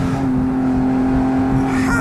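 A 600 hp Porsche GT4 with a 4.5-litre engine and custom exhaust pulls away, its steady low engine drone and humming tone holding loud and close throughout with only slight rise near the end.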